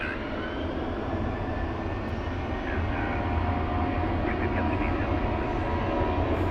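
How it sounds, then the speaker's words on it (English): An American Airlines Boeing 737 at Phoenix Sky Harbor heading for Reno, producing a steady moderate jet roar that swells slightly midway, with people talking over it. "Got American Airlines 737 Max, or not a Max, 823, heading to Reno, Nevada."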